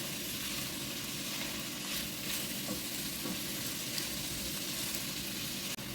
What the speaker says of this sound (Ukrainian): Обсмажую приблизно 5-7 хвилин на середньому вогні.